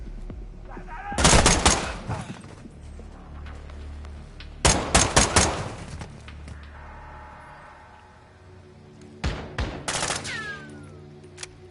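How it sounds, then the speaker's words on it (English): Shotgun fire in Call of Duty: Modern Warfare II, three loud close bursts of blasts spaced several seconds apart, with quieter gameplay ambience and faint voices between them. "Shotguns are absolutely brutal."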